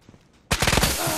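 A sudden burst of rapid automatic gunfire in the VR shooter Ghosts of Tabor, erupting after a quiet moment and rattling loudly and close for the rest of the short span.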